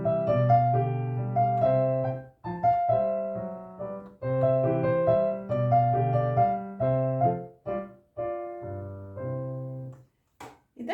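A theme from a little-known sonatina by Vanhal is played on the piano. It runs as a flowing, moderately loud melody over a steady accompaniment, with short pauses between phrases and a few soft closing notes. No one speaks.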